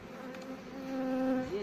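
Honeybees buzz around an apiary hive, a close, steady droning hum that swells slightly louder over a second and a half with no voices.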